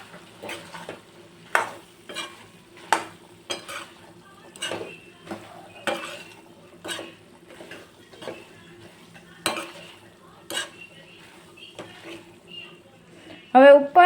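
A spoon scrapes and clinks against a pan as chickpea curry is stirred with lemon juice and sugar, giving repeated rhythmic knocks over a faint sizzle. There is a sharper metallic clatter at the very end.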